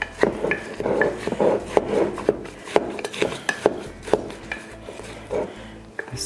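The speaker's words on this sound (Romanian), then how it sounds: "Zdrobesc un pic aici așa în borcan." Raspberries are crushed inside a glass jar with a wooden spoon for homemade liqueur, a close run of repeated knocks, scrapes and squishy rubbing in an uneven rhythm, with no talking.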